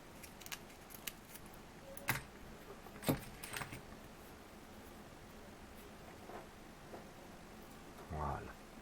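Scissors snip paracord during bullwhip making, a few sharp, close metallic clicks scattered among soft handling rustles and a scrape near the end, with quiet speech between.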